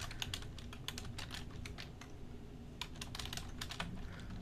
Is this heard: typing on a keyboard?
yes